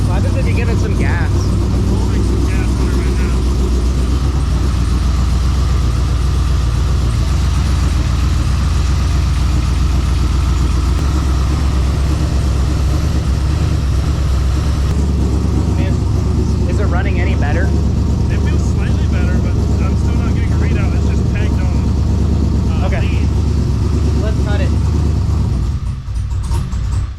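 An LQ4 408 stroker V8 in a Trans Am, running on only four cylinders from dead injectors, rumbles and revs roughly and continuously, loud and close, with people talking over it throughout.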